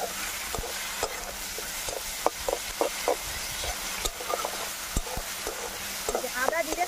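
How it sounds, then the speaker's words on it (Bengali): Ginger, cumin and green chili paste stirred with fried prawns in a pan: a constant sizzle under frequent sharp spatula taps and scrapes, close and without speech. "আদা, জিরে, কাঁচা লঙ্কা বাটা দিয়ে একটু নাড়াচাড়া করে নিলাম।"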